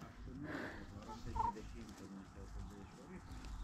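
A flock of backyard chickens gathers after being called, with soft clucks and low murmuring calls near the microphone, faint overall, while a person speaks quietly.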